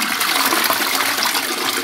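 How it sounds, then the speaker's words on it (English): A video game toilet flushes in one steady, loud rush of gushing water that fills the whole moment without pause, with no talking over it. "All right, let's flush it."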